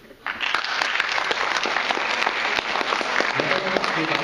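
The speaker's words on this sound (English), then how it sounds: "Let's have another round of applause" Audience applause at a debate, dense, steady clapping from a crowd that starts suddenly and keeps on at an even level throughout.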